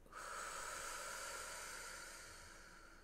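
A single long, steady exhale during a guided breathing exercise, close and soft, fading slowly toward the end.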